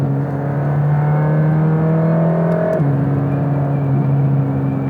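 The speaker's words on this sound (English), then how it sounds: "This is the drag, like the way the wind hits the car. You get this little whistle no matter what you do." Wind drag whistle on a Mercedes-AMG GT Black Series with its rear spoiler, heard from inside the car as a loud, steady tonal whir over the road and engine drone. The pitch drops suddenly partway through, then holds.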